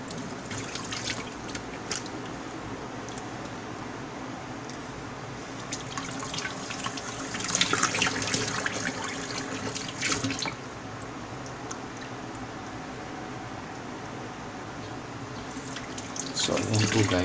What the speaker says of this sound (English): And I need to rinse off the oats sa mukha.